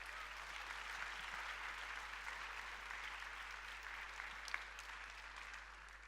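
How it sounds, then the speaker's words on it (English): Steady, sustained audience applause fills the room for conference presenters and speakers at a global competence event, a dense even clatter of many hands with no break and a single sharper clap near the end. "One more round of applause for all of them."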